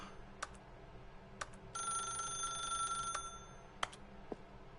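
An old-fashioned telephone bell rings steadily for about a second and a half in The Stanley Parable video game, set against quiet background music with a few soft clicks around it.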